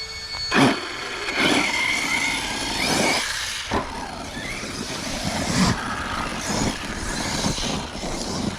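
An Arrma Kraton EXB RC truck with a Castle motor and 20-tooth pinion whines and surges in repeated loud bursts nearby, its pitch rising and falling as it accelerates and slows.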